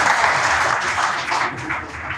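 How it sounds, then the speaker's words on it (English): Audience applause at a Puma pro runners' panel held live at the Boston Marathon, a steady dense clapping wash filling the whole short stretch at even loudness. "Round of applause for somebody."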